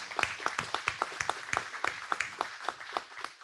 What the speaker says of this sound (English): we will give you a round of applause